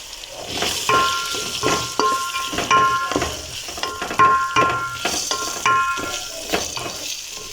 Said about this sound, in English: So reduce my heat and add in my carrots at this point.